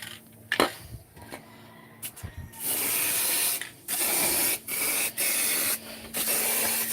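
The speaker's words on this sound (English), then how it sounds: "I will just spray poison all around it" An aerosol spray of rat poison is hissing onto a water pipe. It comes in several bursts of a second or so, with handling clicks and rattles between them, and no one is talking.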